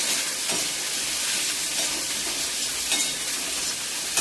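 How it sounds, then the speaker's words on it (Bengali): Cauliflower florets frying in oil with a pinch of salt, a close, continuous sizzle with faint stirring scrapes and a few soft clicks, no talking over it. "অল্প একটু লবণ দিলাম, দিয়ে ফুলকপিটা লাল করে ভেজে নেব।"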